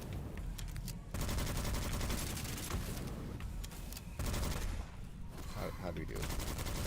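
Rapid automatic fire from a gun in the dark fantasy shooter Witchfire, held down until it overheats, a dense loud stream of shots broken by two short pauses, with speech faintly underneath.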